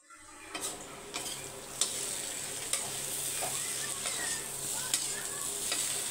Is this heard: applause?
no